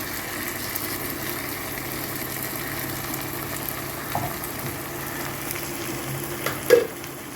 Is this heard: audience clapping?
no